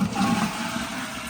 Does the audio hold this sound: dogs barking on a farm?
no